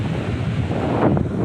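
Sea waves wash against the shore in a steady, loud, broadband rush, mixed with heavy wind buffeting the microphone.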